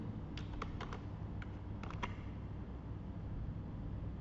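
Computer keyboard keys tapped for copy and paste, a few quick clustered clicks in the first half followed by quiet, faint and close over a low background hum.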